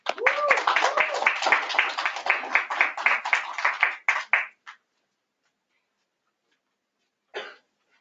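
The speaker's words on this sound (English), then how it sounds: "let's give a round of applause for Dr. Pearly Elliman." An audience at a wellness conference claps in welcome of a speaker. A dense burst of applause lasts about four seconds with a vocal sound early on, then trails off into silence, followed by one brief late clap.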